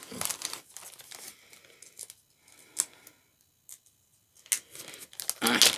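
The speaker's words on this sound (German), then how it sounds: "Ich will die Tüte nicht zerreißen" A plastic bag of scented wax melts is crinkled and rustled open during an unboxing, with several bursts of crackling, a loud rustle near the end and quiet gaps between them.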